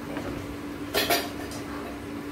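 A metal utensil scrapes and clinks against a kadai as food is moved out of it, with two or three close, bright metallic clinks in the middle over a steady low hum.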